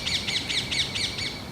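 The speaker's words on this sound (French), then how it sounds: "On dirait un petit perroquet." A small bird, much like a little parrot, chirps in a steady run of about six bright, evenly spaced calls, close and clear with no talking over it.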